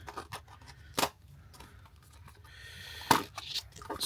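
Scissors or a blade slice open the plastic-packed product box of a NEEWER magnetic mount stand for a DJI Osmo Pocket 3, giving two sharp, close cutting snips amid light scratchy rustling.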